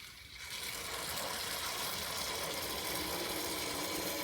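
A vacuum coolant filler drawing coolant from a bucket into a Lexus cooling system: a steady, loud hissing rush of air and liquid that starts softly and quickly builds to a constant level, with no talk.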